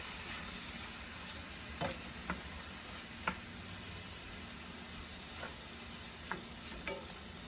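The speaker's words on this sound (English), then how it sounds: "I'm going to add it in. And I am just going to let that fry." Beef steak pieces for a stir-fry sizzle in a pan with a soft, continuous frying crackle, broken by a few faint clicks and taps spaced through the stretch.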